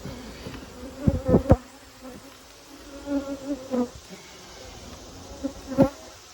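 Steady insect buzzing from many honeybees around a hive, with louder individual bees droning close by in brief swells before fading back into the hum.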